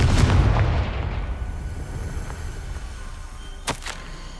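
A Confringo fire-blast spell in Hogwarts Legacy detonates with a heavy low boom that decays into a long rumbling tail, followed near the end by a couple of sharp cracks, with no talking.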